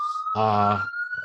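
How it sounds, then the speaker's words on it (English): An ambulance siren holds a steady high wail as it goes by, while someone talks over it in the foreground. "The ambulance is going by."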